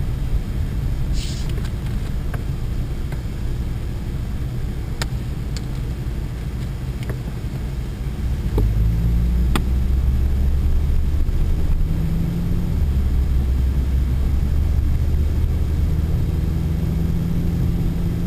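A Pontiac Sunfire driving through snow gives a steady low engine and road rumble that swells louder about halfway through, as if accelerating, with a few faint clicks over the drone and no talk.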